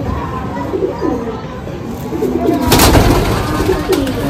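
Home-bred racing pigeons in a loft, with loud coos and burbling calls that overlap, a brief burst of rustling flutter midway, and faint talk in the background.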